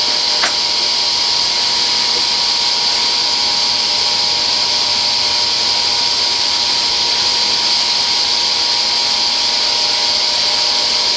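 Steady, loud power-tool whine of saws cutting wooden stiles and rails for Shaker doors, a continuous broadband roar holding unchanged throughout with a brief click near the start.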